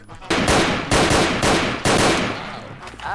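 Rapid gunfire bursts ring out in Garry's Mod DarkRP, three loud volleys of automatic shots in quick succession, each sharp and close with a ringing tail.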